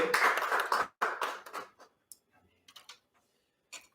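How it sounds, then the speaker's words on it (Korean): A church congregation at a Sunday Methodist worship service in Cheongna, Incheon, gives a short burst of clapping that fades within about two seconds, followed by quiet with a few scattered claps and taps. "우리 하나님께 감사와 영광의 박수 올려드립니다"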